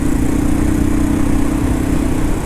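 A motorcycle engine drones loud and close in a steady, unbroken hum while the rider builds speed toward 80 ahead of a braking test.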